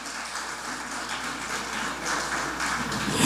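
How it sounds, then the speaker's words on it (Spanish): A church congregation applauds, a soft, continuous patter of many hands clapping at a distance that swells a little toward the end, with no talk over it. "Dale ese aplauso a Dios"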